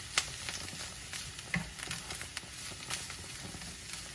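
Ginger slices frying in oil in a pan on a stove, a quiet steady sizzle with soft crackles and occasional light clicks.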